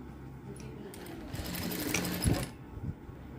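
A sewing machine runs steadily while stitching a blouse at moderate distance, with the motor hum swelling in the middle and a few clicks near the end.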